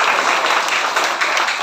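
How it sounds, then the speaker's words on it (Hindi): An audience claps for a woman at a gathering, a dense, steady burst of applause that is close and loud and lasts under two seconds. "हाँ तालियां रेशमा"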